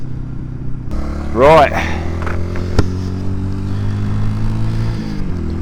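A Honda CD200 motorcycle idles steadily, then its engine revs up sharply in one brief burst as a sticking throttle cable pulls, settling back to a loud close idle with a short spoken word over it.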